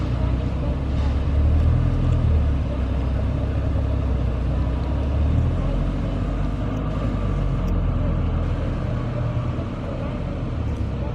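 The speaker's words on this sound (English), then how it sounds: "They're taking it for a test ride." A Galant VR4 pulls away on a test drive, its engine giving a loud, steady low rumble that holds close and even throughout with no pauses.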